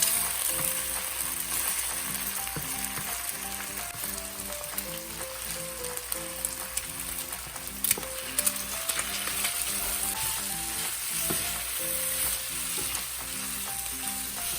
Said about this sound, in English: add additional cooking oil on the pan and add an egg into the pan